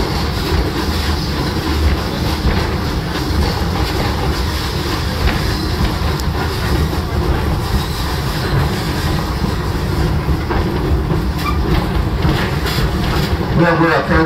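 A passenger train on the Greenfield Village railroad in snowy weather, a loud continuous rumble with rhythmic wheel clatter on the track, someone narrating over the steady rolling noise.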